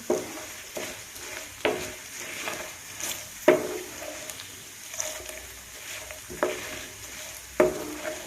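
Dried shrimp and tempering spices crackle in hot oil in a pan for amaranth-leaf dried shrimp pulusu, a low steady sizzle punctuated by regular ladle scrapes and knocks against the pan.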